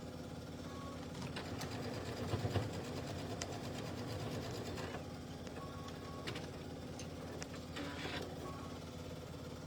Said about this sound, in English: Listening to Paula free motion quilt here is pretty impressive.